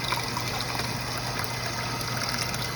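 Water running and pouring into a pot for cooking rice, a steady rushing gush close by in a kitchen, continuous without talk.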